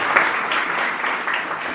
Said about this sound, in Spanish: comencemos con un aplauso para nosotros